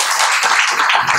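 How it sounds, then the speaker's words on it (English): Audience applause for a presentation at a session on quantum physics, brain science and Buddhist philosophy: dense, sustained clapping from a crowd filling the whole moment at steady loudness, with no voices over it. "let us give him a round of big applause"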